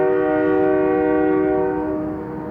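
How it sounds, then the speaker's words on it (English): A train horn blasts loud and sustained in the woods at night, a steady harmonic blare that holds for over two seconds before easing slightly, with no voices. "That train is just blasting."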